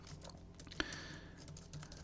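A few soft keyboard keystrokes, quiet and sparse, with one sharper click standing out against a faint background hum.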